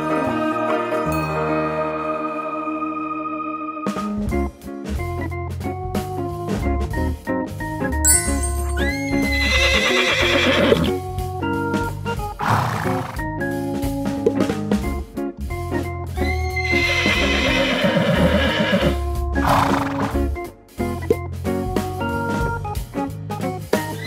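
Horse neighing over tonal, musical sounds: several loud, drawn-out whinnies rise and fall amid a busy layered backdrop of sustained tones and jingling.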